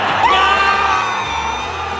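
Arena crowd at an NHL playoff hockey game roaring and cheering after a Capitals goal, a dense sustained wall of voices with whoops and a rising whistle near the start, loud and steady throughout.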